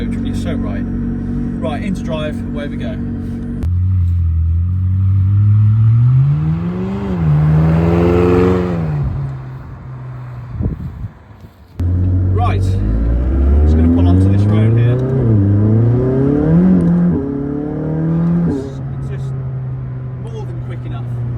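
McLaren 600LT pulling away from a standstill, the engine note climbing and falling through revs and gear changes, loud and close throughout with one short break.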